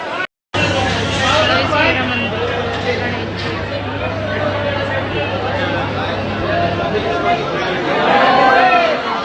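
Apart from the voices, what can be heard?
crowd chatter at a busy temple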